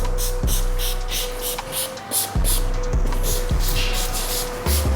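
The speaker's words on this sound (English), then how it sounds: "You will be spraying this on the matte detailer." Several short bursts of matte detailer spray onto a microfiber towel for cleaning a helmet hiss repeatedly at irregular intervals over a steady mechanical hum, with faint clicks between them; no talking.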